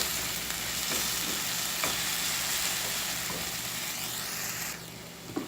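Vegetables for saltfish stuffing being mixed in a hot pan: a constant loud sizzle with faint periodic scrapes of stirring, and the hiss drops away near the end.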